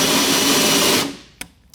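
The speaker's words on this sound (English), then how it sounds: "Now I like to actually run the drill backwards just a little bit to establish a cutting groove." A power drill fitted with a 4-inch hole saw spins in reverse for about a second with a steady whirring, then winds down, followed by a single sharp click.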